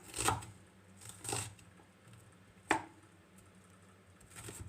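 Knife cutting onions on a board, four or five crisp separate chops spaced about a second apart, close and fairly quiet, no talking.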